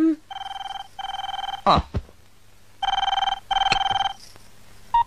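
A telephone bell rings in repeated regular bursts, pausing once for a short clatter and a brief voice before ringing again, loud and close.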